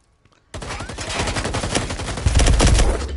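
Rapid automatic gunfire bursts in a competitive online shooter match, loud and dense, starting abruptly after a brief quiet moment and intensifying toward the end with heavier blasts.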